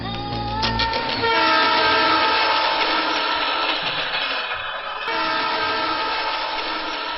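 A train at a station sounds a sustained horn over rumbling, clattering carriages, the noise loud and continuous throughout.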